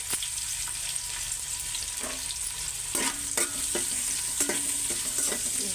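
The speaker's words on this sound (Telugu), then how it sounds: "ఉల్లిపాయ ముక్కలు, పచ్చిమిర్చి కూడా వేసేసుకున్నాం" Onion pieces and green chilies fry with a steady, close sizzle for coconut rice, broken by several sharp scraping stirs of a spatula against the pan.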